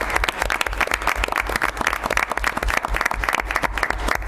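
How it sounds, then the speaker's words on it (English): A school board meeting audience applauds student music performers, dense steady clapping from a crowd filling the room at close range with no pauses. "So I just have to give them a round of applause."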